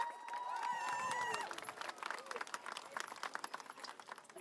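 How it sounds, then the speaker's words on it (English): A crowd at a rally for Palestine and Lebanon breaks into applause for the speakers; dense, steady clapping follows a brief voice and carries on for several seconds at a strong level. "Everybody, please give them a round of applause."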